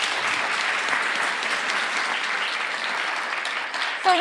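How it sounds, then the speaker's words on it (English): Steady, full crowd applause fills the room, dense and continuous from a sizeable audience at a junior chef competition awards event, holding level throughout before a brief swell at the end. "Give Ailey and Con a very big round of applause."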